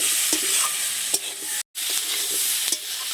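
Tomatoes and potatoes stir-fried in mustard oil in a pan, a loud continuous sizzle with repeated scraping strokes of a spatula and a brief silent break midway.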